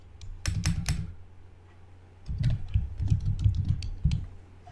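Typing on a computer keyboard while entering text into a slide: close, crisp key clicks in two quick bursts separated by a short pause, the later burst longer and irregular, in a quiet room with no speech.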